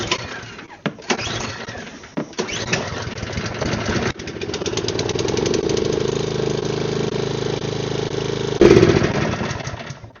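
Small gasoline engine, for snow equipment, running after a carburetor cleaning: a few sputtering attempts, then it catches and settles into a steady loud idle with a slightly choppy rhythm and a brief rev near the end.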